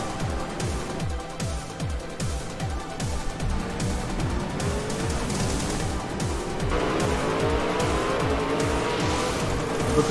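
Race cars in a video game race on a road course, with steady engine roars, repeated rising and falling pitch sweeps and gear shifts continuing alone throughout.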